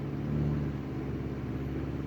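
Engine of a 2011 GMC Terrain held at raised RPM during a P0420 catalytic converter test, a steady, droning hum with a low rumble that holds constant for about two seconds.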